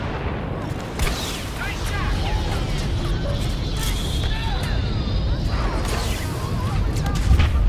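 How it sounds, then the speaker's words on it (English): Orbital strike in the Star Wars Battlefront video game: dense, continuous rumbling blasts and crashing impacts roll on loudly with scattered gunfire mixed in, no clear pauses. "They've triggered an orbital strike."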